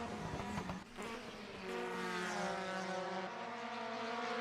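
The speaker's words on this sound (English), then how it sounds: "Steve Parker looks like he's going to attempt an overtake here" Formula 3 race cars at the 1973 British Grand Prix at a circuit, with engines rising to a sustained high whine as they pass, fairly distant and moderately loud, accompanied by a continuous tonal drone.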